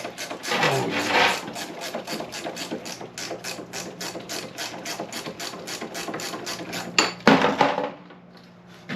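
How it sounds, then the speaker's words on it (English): A ratchet wrench clicks in rapid, even repeated strokes while front racing brake rotors are installed on a Mazda RX-7 FD3S, with metallic clatter of tools nearby and a sharp clank near the end. "Just rubber mallet. Ratchet wrench. That's all you need."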